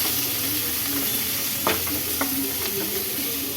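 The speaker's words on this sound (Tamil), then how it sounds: "ஒரு 2 பச்சை மிளகாவை போட்டுக்கலாம். நல்லா இதை வதக்கிக்கலாம்." Two green chillies sautéing in a pan for a Rajasthani malai sabji side dish, a steady close sizzle and fry hiss with a few scraping stirs of the spoon.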